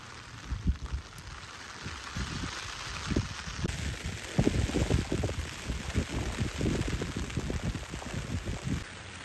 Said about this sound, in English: You can see how hard it's raining today, right?